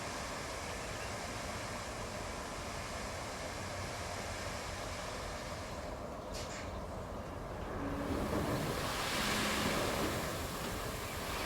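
A vehicle drives through deep water in the Roadcraft game, giving a continuous rushing, surf-like wash that swells louder in the last few seconds over a steady low engine rumble.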